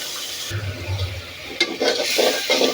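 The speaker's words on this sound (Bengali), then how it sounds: "এখন আমি এগুলো কষাবো।" Cumin and coriander powder with salt sauté in a pan, giving an even frying hiss with a low clunk early on, then a few scrapes and stirring knocks near the end.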